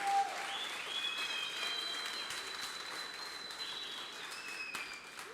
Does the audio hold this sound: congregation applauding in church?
yes